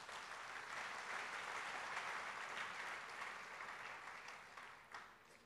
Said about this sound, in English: Let's give all of us a round of applause.